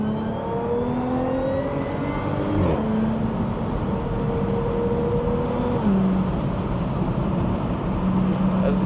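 A 400 hp Audi S4 drives along a scenic road, its engine droning steadily and rising through several gears, with pitch climbing and dropping at each shift under constant road noise.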